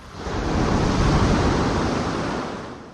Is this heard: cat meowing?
no